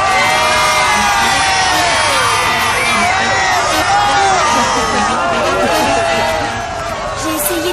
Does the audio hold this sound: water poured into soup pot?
no